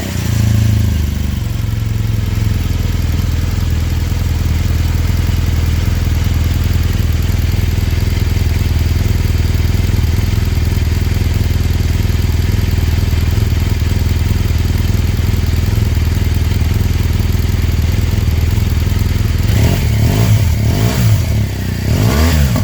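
A 2015 BMW R1200GS Adventure motorcycle on its stock exhaust, idling with a steady, loud low boxer-engine rumble close by, then a few revs rising and falling at the end.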